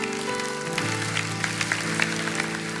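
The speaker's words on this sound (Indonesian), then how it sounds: "Kasih tepuk tangan untuk Tuhan" A church congregation clapping during a sermon, a steady broadband patter of many hands held under sustained organ or keyboard chords throughout.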